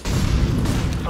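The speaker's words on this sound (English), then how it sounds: "Flashbang out." A flashbang grenade bursting in Counter-Strike: Global Offensive, a loud, broad, rumbling blast that fills the whole second, with a voice talking over it.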